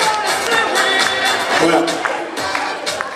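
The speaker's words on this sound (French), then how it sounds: "Vous pouvez applaudir." Audience applauding and cheering a cadet road and track cycling champion at an indoor sports awards night in Berre-l'Étang, with dense steady clapping and crowd noise under an announcer's voice.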